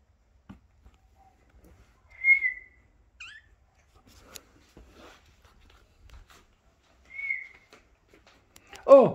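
A person whistles two short, clear sustained notes several seconds apart, near and fairly quiet, among faint footsteps and small handling noises. A brief low vocal sound comes at the end.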